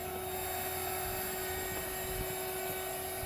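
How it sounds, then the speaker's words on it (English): A gasifier's blower fan runs at full speed, giving off a steady, loud whining roar with a sustained tonal hum. It holds constant throughout, with no speech. "So we're going to crank this fan all the way up."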